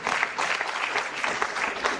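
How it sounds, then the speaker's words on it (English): Audience applause at a sector-wide approach engagement and performance dialogue event, a steady burst of many hands clapping close and moderately loud for about two seconds with no talk over it. "may we applaud her more"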